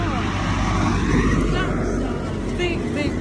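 A big car rushes past a rider on the road, a loud close whoosh of engine and tyre noise that swells and then fades, with a voice speaking briefly over it.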